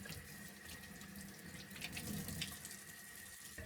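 Cold water runs steadily from a tap over tie-dyed corduroy pants being rinsed out in a sink, a continuous close splashing hiss with slight surges.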